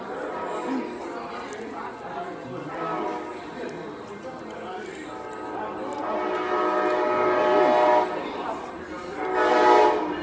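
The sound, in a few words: train passing with horn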